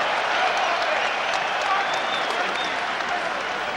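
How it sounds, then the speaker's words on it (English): A large stadium crowd roars and applauds continuously at a 2005 England v New Zealand rugby union test match, a loud sustained wall of cheering with no break. "the crowd are roaring their approval for the knock on"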